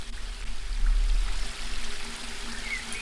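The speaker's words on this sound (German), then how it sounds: "betrachte den Wasserfall" Waterfall in the adventure game Book of Unwritten Tales 2, a continuous rushing, splashing water sound at steady moderate loudness, with no voices.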